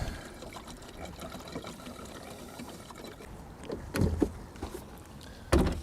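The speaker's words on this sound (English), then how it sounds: "So we're gonna add some fuel now and see if we can't get this thing to start." Fuel pours steadily into the fuel tank of a 1956 Oldsmobile 88, a soft continuous trickling wash close by, with a couple of louder knocks or splashes near the end and no talking.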